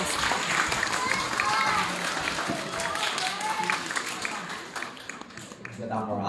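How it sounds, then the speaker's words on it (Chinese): Live audience applause fills a Tianjin evening crosstalk show by Deyunshe performers, a steady wash of clapping with voices speaking over it before it thins out toward the end. "感谢您各位的掌声鼓励"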